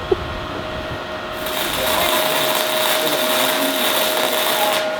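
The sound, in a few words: flux-core welding homemade trailer without gas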